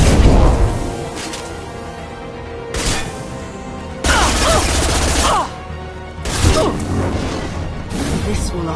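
Gunfire in the Mass Effect video game, bursts of rapid shots and impacts separated by brief lulls, loud and up close, mixed with voices calling out commands.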